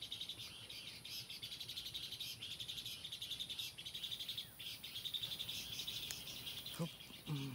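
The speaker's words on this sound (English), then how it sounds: "Bird song." Birds chirp and call faintly over a dense, steady chorus of insects in an outdoor setting, with a soft clatter near the end.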